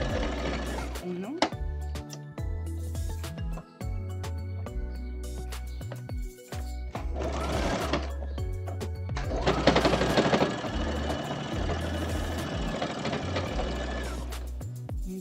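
A sewing machine runs in short bursts of straight stitching on a bralette, close and mechanical, pausing between runs, with a voice speaking quietly over parts of it.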